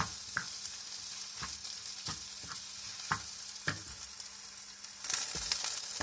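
Pork fried rice stir-fried in a hot pan, sizzling steadily with repeated scraping strokes of a spatula at an irregular rhythm, no voices.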